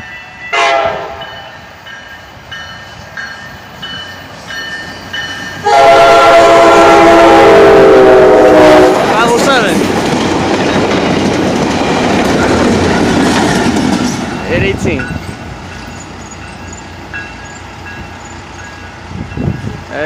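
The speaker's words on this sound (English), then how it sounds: "CSX should be coming any minute." A CSX freight train passes on the railway. Its horn sounds a sustained loud chord, then the rumble and clickety-clack of rail cars roll by up close before fading, with no talking.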